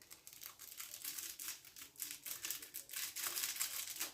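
A crinkly spice and sauce packet being torn open, giving close, continuous plastic rustling and crackling in uneven bursts, fairly quiet, with no talking.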